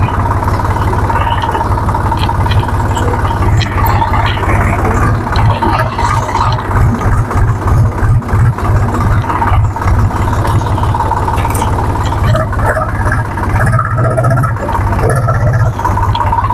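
A Swaraj 735 FE tractor engine idles with a steady, loud, low chugging throb and a mechanical whir that continues unbroken with no one talking.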